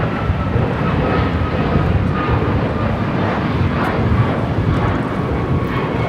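A United Airlines Boeing 737 MAX 8 taking off from LAX for Seattle, its jet engines a dense, loud, steady roar that fills the whole span without a break.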